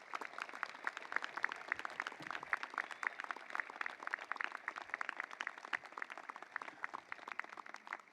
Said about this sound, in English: Can we give the Denison class of 2029 a round of applause?